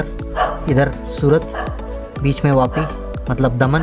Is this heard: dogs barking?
yes